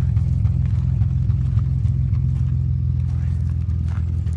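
A 1961 Austin Healey 3000 MK1 engine runs at a steady idle, a loud, close, low rumbling throb that holds even throughout with faint mechanical clatter on top.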